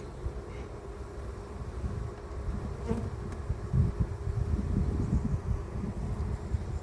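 A dense, agitated buzzing of a restless honeybee colony, close and continuous, swelling a little louder toward the end with light wind noise.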